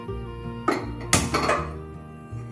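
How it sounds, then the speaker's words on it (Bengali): A metal kadai wok is set down on a lit gas stove in a home kitchen, two sharp metallic clanks and scrapes close by over a low steady burner hum. "বসিয়ে দিচ্ছি একটা কড়া।"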